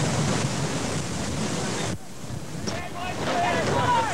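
Strong wind roars across the microphone over heavy 15-foot seas while sailing off Cape Flattery in winds above 30 knots, a steady loud rush with surging wave wash and a brief lull midway.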